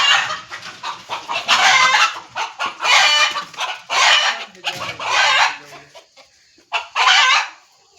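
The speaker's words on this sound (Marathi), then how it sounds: "आपला कोंबडा बाहेर गेला" A rooster crows and clucks loudly and close by, calling in repeated bursts with short pauses between them.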